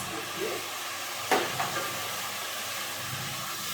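A pan of vegetables deglazed with tamari sauce gives a hissing sizzle that flares suddenly, then settles into a steady soft crackle, with faint talk nearby.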